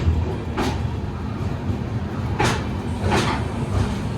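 Karnataka Express rumbling into Bengaluru station, a steady low mechanical drone with several brief hissing or clanking bursts spaced a second or two apart, moderately loud, no voices.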